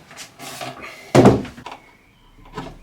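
A wooden drawer of Ercol furniture is pulled out with a single loud wooden thunk and scrape, close and dry, followed by a few softer knocks.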